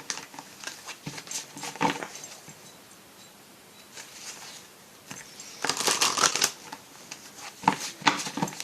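Oracle cards shuffled for a reading: soft papery riffles and flicks come in scattered bursts, quiet at first and then a louder, denser run of shuffling near the end.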